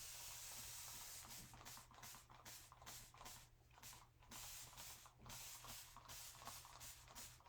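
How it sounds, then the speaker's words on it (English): Aerosol spray can misting a transfer sheet; a series of short, faint hissing bursts repeating about every half second, fairly close, with no talk. "I'm going to spray my transfer."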